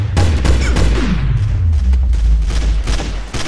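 In the TTT (Trouble in Terrorist Town) video game, several sharp gunshots ring out over a heavy low rumble, loud and close, with no talk.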